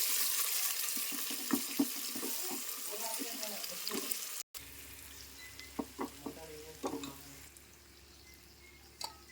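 Onions frying in a pan for chicken biryani, a soft continuous sizzle with scattered stirring clatter and water-like splashes, fairly faint, with a brief cut midway and a quieter stretch after.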